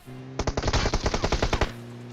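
Rapid automatic gunfire from PUBG Mobile, a loud burst of about a dozen closely spaced shots lasting over a second, standing alone over a low steady hum.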